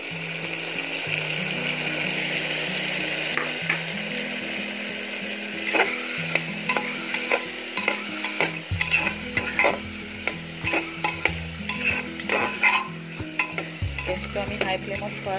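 A masala paste of ginger, garlic, onion and green chili fries in a pan for a mutton curry, with a sustained sizzle and repeated stirring scrapes that grow busier and more rhythmic in the second half.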